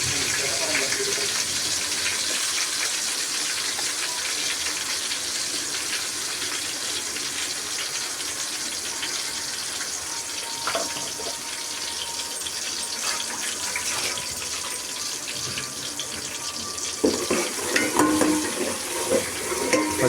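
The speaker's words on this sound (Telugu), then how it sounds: "ఇప్పుడు అల్లం తెల్లగడ్డ పేస్ట్ చేసి దాన్ని బాగా పచ్చివాసన పోయేంత బాగా కలబెట్టాలి" Ginger garlic paste is stirred in a hot pan for chicken biryani, with a steady sizzle and frying hiss throughout and occasional scrapes of the spoon, growing busier toward the end, with no talking.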